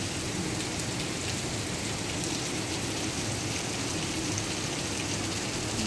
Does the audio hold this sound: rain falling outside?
yes